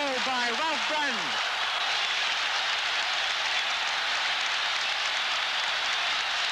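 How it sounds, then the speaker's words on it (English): Tremendous applause and roar from a packed crowd on the Hampden Park terraces after a Rangers goal by Ralph Brand, a loud, dense, continuous wash of clapping and cheering; a voice is briefly heard at the very start. "no wonder there's such tremendous applause from these packed Hampden terraces"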